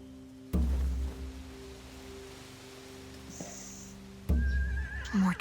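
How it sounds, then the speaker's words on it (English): A horse gives a loud, close whinny near the start and another near the end, each a sharp burst against a quiet background with a faint steady hum between them, in an animated zombie-drama game setting. "They have horses."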